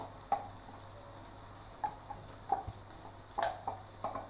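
Shallots, fennel, chili and garlic sauté in oil as a masala for mackerel fish curry, a soft, steady sizzle with a few light stirring clicks, close and without talk.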